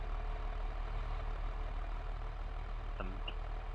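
A tractor engine in Farming Simulator 22 idles with a steady low diesel rumble throughout, and near the end a short mechanical clunk comes as the tractor is put into gear.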